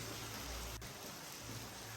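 Steady, dense hiss of rain falling on a feeding elephant, constant and even throughout with no voices, broken only by a single sharp click.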